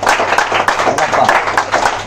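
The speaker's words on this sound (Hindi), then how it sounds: "एक बार एल्लप्पा के लिए जोरदार तालियां भाई" A group claps together at a truck repair workshop gathering, a brief burst of dense, uneven hand clapping at close range.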